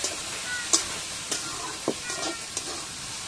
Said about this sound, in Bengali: বাটি ধোয়া জল দিয়ে দেবো, একটু নাড়াচাড়া করে নেবো